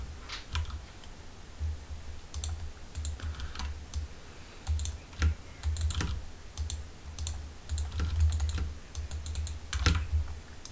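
Rapid irregular clacking of keys on a computer keyboard during a League of Legends match, bursts of close, crisp keystrokes and clicks continuing steadily with no talk.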